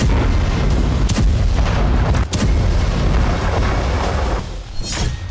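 Loud, continuous rumbling blasts with sharp booming bursts from explosions at Iranian defense force sites, a heavy barrage filling the whole stretch without pause.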